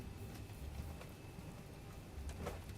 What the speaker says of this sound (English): Oh, great, now it's raining.